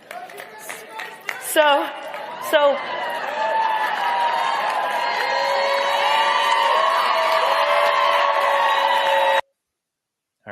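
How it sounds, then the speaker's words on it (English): Crowd at CPAC breaking into sustained applause and cheering, with whoops and shouts rising over a broad steady roar that holds for several seconds before cutting off, a few brief voices audible at the start. "she gets a lot of much-deserved applause"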